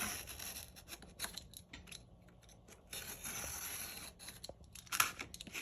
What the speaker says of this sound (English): I'm just using my craft knife, and I'm just gonna line my metal ruler right up against the edge of that front cover